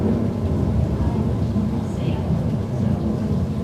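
Steady, loud rumbling rain with low thunder rolls, a staged storm effect in Disney's Carousel of Progress attraction, continuous and dense throughout.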